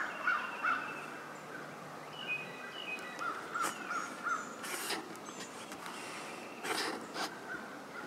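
A flock of wild turkeys in a field gobbling in short, scattered bursts at a distance, faint against outdoor background noise, with no talk.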